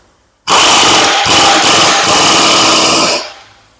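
A power tool with a socket tightens a part on a Hyster or Yale forklift tilt cylinder, giving one loud whirring burst of about three seconds with a couple of short dips, then stopping.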